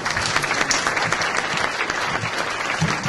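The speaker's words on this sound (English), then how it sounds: "She got a bigger applause than you're going to get" An audience at a congressional luncheon gives steady, full applause, a dense continuous patter of many hands clapping at close range.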